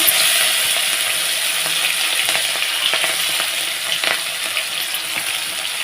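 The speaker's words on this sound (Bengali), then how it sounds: "পটল ভাজার তেলটা রয়ে গেছে তো ফোড়নের জন্য দিয়ে দিচ্ছি" Garlic and green chillies hit hot oil left over from frying pointed gourd, a steady, loud crackling sizzle with bright spitting pops that carries on throughout, alone with no talk.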